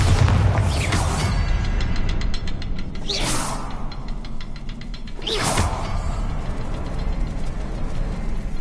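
Bombarda blast spells cast twice in the video game Hogwarts Legacy, two loud whooshing bursts a couple of seconds apart over a steady, rumbling game ambience.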